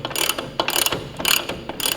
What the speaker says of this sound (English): I will start tightening the rear axle down